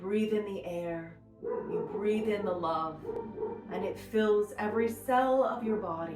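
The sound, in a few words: dog barking in the background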